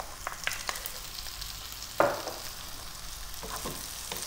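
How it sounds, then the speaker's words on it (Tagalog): Onions fry in a pan over high heat with a soft, steady sizzle, broken by light stirring scrapes and one sharper clink partway through. "Kaya ilalagay ko na rin yung ating sibuyas."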